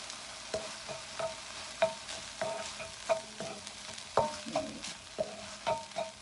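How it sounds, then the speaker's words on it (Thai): Spaghetti sauce stir-fried in a pan for a baby's meal, with a spatula scraping and stirring in repeated strokes over a soft, steady sizzle, close and moderately quiet. "ก็ลองผัดดูก่อนนะคะ"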